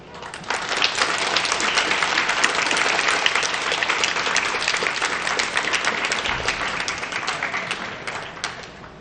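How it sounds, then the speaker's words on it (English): Cadets at a junior police academy graduation applaud their parents with loud, dense, sustained clapping that fills the hall for several seconds before tapering off at the end. "give your parents a roaring round of applause for the support they gave you"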